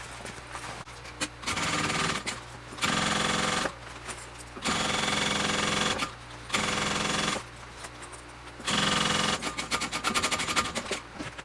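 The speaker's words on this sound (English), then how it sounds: "Now we're going to go ahead and baste this all together" Machine basting of a Brivet backpack lining comes in fast, even bursts of stitching, about six runs of a second or so each, separated by short pauses, close and fairly loud with no talking.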